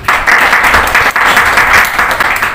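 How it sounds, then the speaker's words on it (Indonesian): A classroom of students claps together for a classmate, a loud, brisk burst of applause with brief dips in intensity, close and unbroken by talk. "tepuk tangan untuk Hatli"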